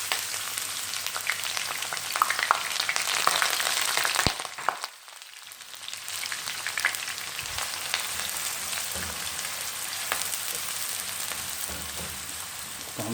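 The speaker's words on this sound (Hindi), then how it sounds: "ऑयल गर्म हो चुका है, इसमें हम डालेंगे ये 2 मीडियम साइज़ के प्याज कटे हुए।" Two medium sliced onions drop into hot cooking oil for brinjal bharta, a steady loud frying hiss briefly dipping as they land, then resuming as constant sizzling.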